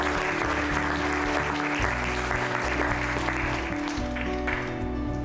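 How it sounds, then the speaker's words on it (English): Steady applause from an audience at a legislative mentorship welcome event, continuous and fairly full throughout, set over a low droning background tone. "give yourself a resounding round of applause"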